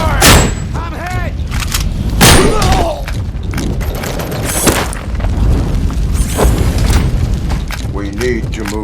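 Gunfire in the video game Robocop Rogue City: repeated loud booming shots and thuds in rapid bursts, mixed with game dialogue and voiced lines throughout.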